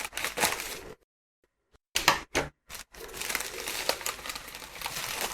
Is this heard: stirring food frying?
no